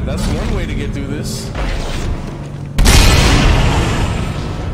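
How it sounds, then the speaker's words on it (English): A loud explosion in the video game Dead Space 2 erupts suddenly with a broad, booming burst that lingers as a rumbling roar, following game sounds and speech. "Yo, that explosion went so far."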